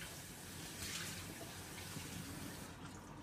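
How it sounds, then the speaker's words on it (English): Tap water runs steadily from a faucet into a measuring cup at a sink, a continuous close hissing splash with no talking. "And I gotta fill it up with some water."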